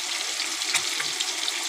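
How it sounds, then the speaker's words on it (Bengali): Fish sizzling as it fries in deep oil, a steady close hiss with faint crackles throughout. "ভাজাও করছি ছাকা তেলে"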